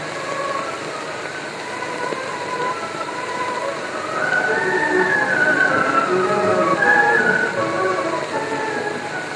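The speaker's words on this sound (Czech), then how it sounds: "Strojvedoucí může uvést vlak do pohybu." An M131.1 motor railcar pulls away from a standstill, its engine note building into a steady, moderately loud mechanical rumble with a rising whine as it gets under way, with no talk.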